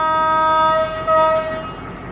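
A train on a single-track railway line sounds a loud, sustained horn with a steady pitch that cuts off briefly and resumes, close by and dominating the scene.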